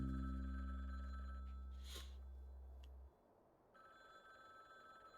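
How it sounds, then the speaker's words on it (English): A telephone rings on a street in the video game Frog Detective 3: Corruption at Cowboy County, a steady electronic ring over a loud low hum that cuts out briefly midway, then resumes. "I can't just leave the phone ringing."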